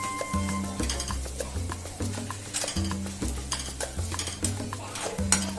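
Tomato sautéing in a pan gives a steady sizzle, with repeated scraping strokes of a stirring spoon in a regular rhythm and occasional clinks of metal on the pan. The sound is close and fairly loud, and no one speaks.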